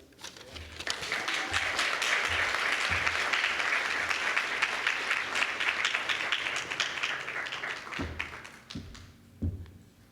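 A crowd applauds steadily for several seconds, dense clapping swelling then tapering off into a few scattered claps.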